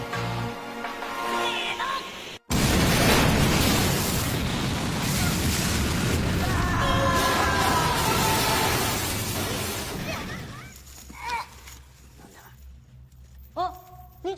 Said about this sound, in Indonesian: Dan tak lama setelah itu, dinamit pun meledak.